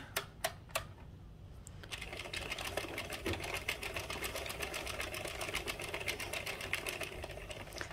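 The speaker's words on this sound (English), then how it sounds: "I always go slow on the first 1 or 2 rows just because your machine needs to like get used to using a different type of yarn" An Addi King circular knitting machine is cranked to work rows of yarn. A few isolated clicks come first, then a fast, steady rattling clatter runs close and evenly paced to the end, with no talk.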